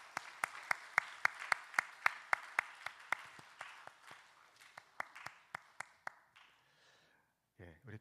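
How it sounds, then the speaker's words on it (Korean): At a Korean Sunday church service, the congregation applauds an elder being robed, with sharp, evenly spaced claps in a steady rhythm that fade after about six seconds, followed by a brief voice. "자, 우리 같이 박수하시겠습니다."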